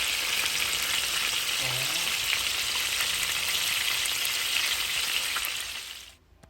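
Chicken pieces brown in hot oil for Jamaican stew chicken, giving a dense, even sizzle and crackle up close that holds steady and then fades away at the end, with a faint tonal hum underneath.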